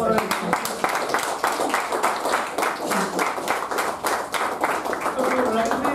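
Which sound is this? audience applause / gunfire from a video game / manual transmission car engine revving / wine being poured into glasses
audience applause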